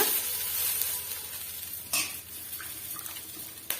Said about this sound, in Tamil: நல்லா வந்து வதக்கி விட்டுக்குங்க ஓரளவுக்கு வதங்கி வந்தால் போதும்